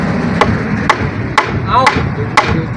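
A blacksmith's hammer strikes metal at a forge, landing five sharp, evenly spaced blows about half a second apart over a steady background of low noise.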